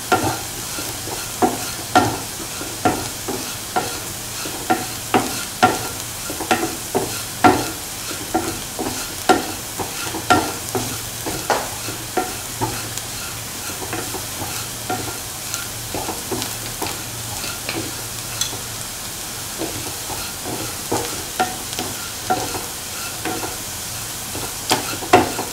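A spice mixture, potatoes, mustard seeds and other ingredients for a potato pickle are mixed by hand, with regular scraping, clattering stirs in a steady rhythm over a faint background hiss.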